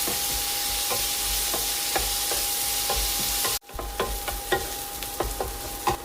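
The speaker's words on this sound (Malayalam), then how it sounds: "ഇനി ഈ എണ്ണ മൂപ്പിച്ചെടുക്കണം" A mixture frying in hot oil, a continuous bright sizzle with regular spoon scrapes, briefly cut off midway before resuming slightly quieter, close and without speech.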